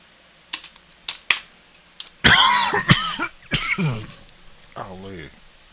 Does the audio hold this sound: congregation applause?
no